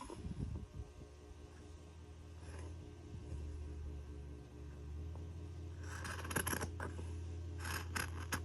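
Scissors cut out fabric for a dining seat cover, giving faint close snipping and rustling under a steady low hum, with a quick run of sharper snips toward the end.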